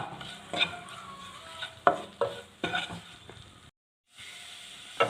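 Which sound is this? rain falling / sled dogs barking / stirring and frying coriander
stirring and frying coriander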